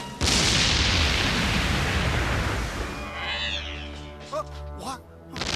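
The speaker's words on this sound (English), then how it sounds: "just watching Batman just go full on Flash right now and just fucking super run an explosion" A large cartoon explosion from Batman: The Animated Series roars loud and sustained, then fades into rumbling with a few sharper hits and tonal effects near the end.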